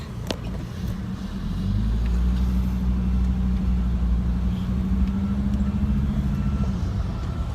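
A Mercedes Sprinter van with a limp-mode fault drives slowly to a fuel pump, its diesel engine a steady loud low rumble that swells after the first seconds and holds, with no talk.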